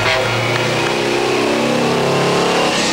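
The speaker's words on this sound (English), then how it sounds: "the V12 T815, 380 brake horsepower going through that four-wheel drive" A Tatra T815 V12 rally truck engine with 380 horsepower and four-wheel drive roars steadily in a dense, continuous drone, loud and close throughout with no pauses.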